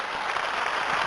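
Seated audience at a motivational business event claps together in a brief, dense burst of many hands, even and continuous.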